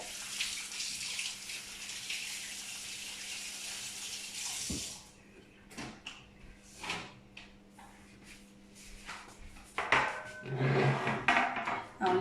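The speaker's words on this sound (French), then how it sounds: "je vais tout simplement aller rincer mon moule silicone et le poser sur la grille froide" A silicone financier mould is rinsed under lukewarm tap water. A steady close stream runs for about five seconds, then stops, followed by scattered knocks and clatter as the mould is handled, with a brief splash near the end.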